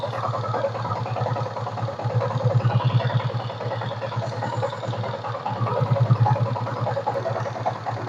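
A Yamaha Sniper motorcycle engine idling steadily up close, a low rhythmic putter with mechanical clatter holding even for several seconds, with no talk over it.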